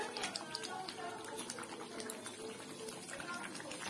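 Potatoes sauté in hot oil in a pan, giving a soft, steady crackling sizzle. The sound is faint and continuous, with scattered tiny pops throughout.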